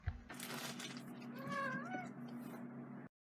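A house cat indoors gives one clear, rising-and-falling meow, close and fairly quiet, over a faint steady hum in a still room.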